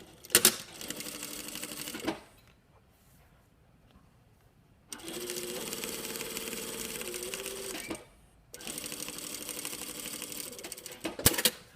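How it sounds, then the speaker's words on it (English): Sewing machine stitching close to the edge of a shirt cuff, holding the seam allowance up, runs in two steady whirring bursts separated by a quiet pause, close and moderately loud with no talk. "we're going to stitch right close to the edge, just like we did on the collar"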